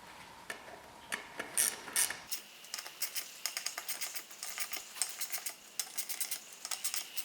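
A hand ratchet snugs wheel lug nuts into aluminum wheels on a 2004 Polaris Ranger 6x6, giving a steady run of rapid, close clicking strokes with brief pauses between bursts.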